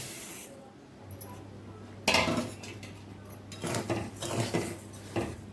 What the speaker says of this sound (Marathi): कढई आपली चांगली आता तापलेली आहे त्यामध्ये तांदूळ घालायचे